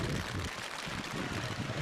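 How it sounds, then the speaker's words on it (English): Heavy rain pours down steadily over an outdoor baseball field, a dense unbroken hiss filling the whole stretch, loud and close. "the rain is really, really coming down"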